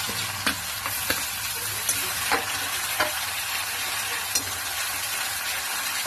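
Crushed garlic and green chilli paste sizzles and fries in a pan while being stirred, a steady close hiss broken by several sharp clicks of a spoon against the pan.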